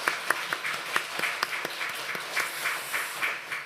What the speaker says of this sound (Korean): 여러분 박수 한번 할까요?